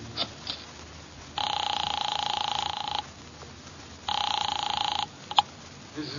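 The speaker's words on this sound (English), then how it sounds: "grabbed the office phone and dialed Wolfe at once" An office telephone in a 1950 Nero Wolfe radio drama gives two long electronic rings a couple of seconds apart, clear and moderately loud, with faint handling clicks between.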